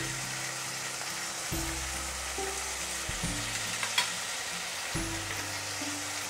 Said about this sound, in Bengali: আমার পেঁয়াজগুলো রসুনগুলো ভাজা হয়ে গেছে, টমেটো পিউরি দিলাম।